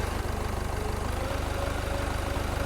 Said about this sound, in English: The engine on that pickup truck that stood there is rather loud.